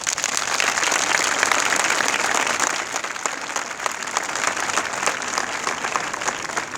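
A room full of people applauds steadily at a flag salute ceremony, loud and sustained, easing slightly toward the end.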